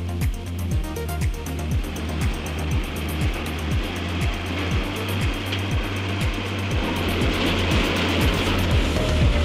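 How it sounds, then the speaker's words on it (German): Self-propelled GDR swather with a 3-metre cutting width and a crimper-conditioner mows a field, laying the crop in swaths: a steady, close engine drone with a fast rhythmic mechanical clatter running throughout, no voices. "Dieser Schwartmäher als selbstfahrende Einheit hat eine Schnittbreite von 3 Metern."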